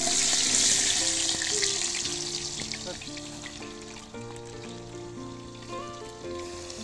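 Onions sizzling in a pot while the gravy for chicken biryani is made, a steady frying hiss that fades a little, with scattered clinks and a faint musical background underneath.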